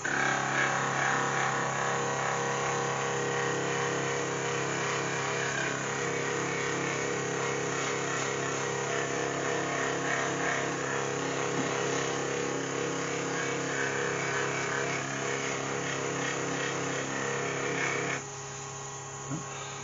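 A lathe spins a buffing wheel at 2000 rpm on an ash bowl, a steady machine whir with a mechanical drone running continuously at high speed, dropping slightly near the end.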